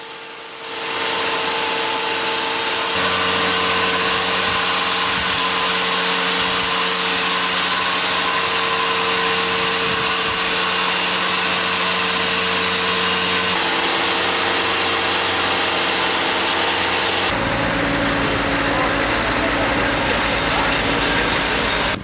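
Log being cut into planks at a sawmill, a loud steady mechanical whine and rasp of the saw running continuously close by, its pitch shifting partway through as the blade works through the wood.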